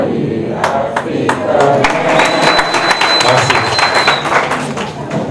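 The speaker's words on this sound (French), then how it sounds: "Merci pour cette acclamation de l'hymne national." Crowd cheering, whistling and applauding at a Senegalese political rally right after the national anthem, a dense continuous roar with claps and shouts throughout, near and loud.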